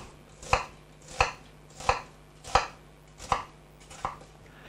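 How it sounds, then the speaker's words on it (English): A knife chops an onion on a cutting board in six evenly spaced crisp thuds, close and clear with no talking. "So we cut the onion."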